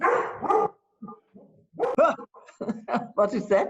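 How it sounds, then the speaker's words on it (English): A dog barks repeatedly in short bursts nearby, its barks interleaved with and partly under people talking in a room. "That's the dog to tell us it's time to stop."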